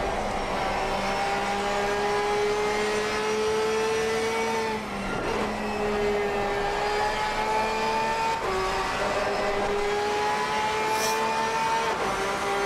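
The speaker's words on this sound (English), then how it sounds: "Listen to that transmission line." A high, steady transmission whine rides over a racing car engine in Assetto Corsa Competizione, rising and dropping slightly with each shift, loud and continuous.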